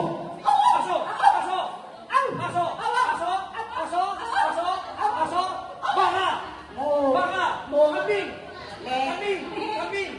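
Several people at a Christmas party animal-sounds game bark and yap in turn, imitating a dog, with laughter and chatter mixed throughout.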